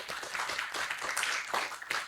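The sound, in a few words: audience clapping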